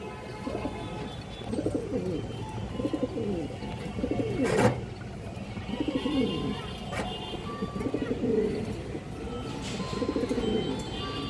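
Several China khaki pigeons, including hens kept for sale, coo repeatedly in soft rolling phrases close by, with occasional sharper knocks and faint background noise.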